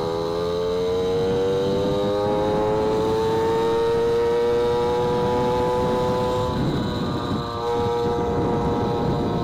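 A motorcycle engine drones loudly and continuously while riding through downtown Buffalo, its pitch climbing gradually with a brief dip and shift partway through, wind rush beneath the steady tone.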